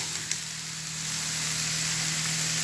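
Thin slices of pork sautéing in a hot pan, a steady broadband sizzle that builds slightly and holds, with a low background hum and a small clink near the start; no talking.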